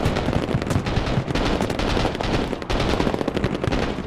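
Dense, continuous automatic gunfire with overlapping rapid bursts and shots from the modern-warfare real-time strategy game Broken Arrow. It stays loud and close for the whole stretch, with only brief dips.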